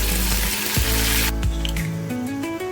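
Cumin and mustard seeds dropped into hot oil after garlic has fried, giving a loud, steady hiss and crackle that abruptly settles into a softer sizzle about halfway through.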